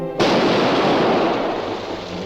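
A ship's cannons fire in a 1945 pirate film, opening with a sudden massive boom that rolls into a long, dense, roaring rumble of reverberating blasts and debris, loud and close, with no voices.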